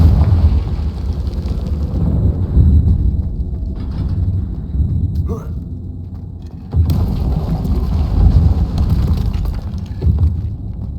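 Crackling blasts from the Confringo blasting spell in Hogwarts Legacy: loud, dense bursts with rattling debris, a sharp crack midway and a second heavy burst that rolls on to the end, with no talk.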